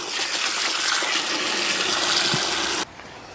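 Water gushes steadily over rocks as muck is rinsed off them for a box wetland filter in a koi pond build, a loud continuous splashing rush that cuts off abruptly near the end.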